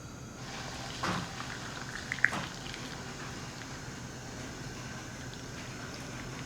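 Steady low rumble of water boiling in a covered steam canner during home canning, faint and continuous, with a couple of brief clinks early on.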